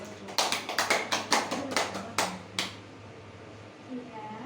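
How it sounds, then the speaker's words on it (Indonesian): Students in a classroom clap their hands in a quick, uneven burst of about a dozen sharp, close claps over two and a half seconds, then stop and leave quiet room tone. "Tepuk tangan."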